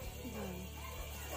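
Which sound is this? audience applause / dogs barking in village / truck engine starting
dogs barking in village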